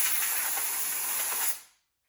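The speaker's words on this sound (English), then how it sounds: "I use compressed air to completely dry" Compressed air blows a rinsed woodworking saw blade dry with a loud, close, steady hiss that lasts about a second and a half and then cuts off abruptly into silence.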